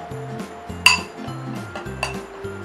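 A utensil stirs homemade slime in a bowl, giving light clinks and taps against the bowl's side, with one sharper knock, over a steady tonal background and no speech.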